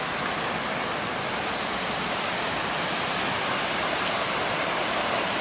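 A waterfall seen from an outdoor hot spring bath in Japan gives a constant, even broadband rush of falling water, moderately quiet and unbroken, with no voices over it.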